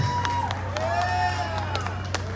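Crowd applause and cheering at a live concert in Santiago Tulyehualco, saluting the band director: steady audience noise with scattered claps under a sustained tonal sound, continuous for the whole moment.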